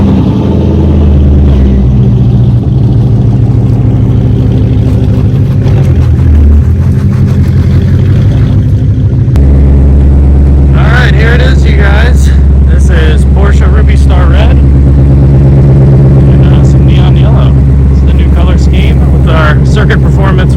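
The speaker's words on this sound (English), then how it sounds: "now I'm actually going to pull the Mustang out of the garage for the first time" A Mustang drift car rolls out of a garage with a steady, loud, low engine rumble, and a person talks over it for much of the time.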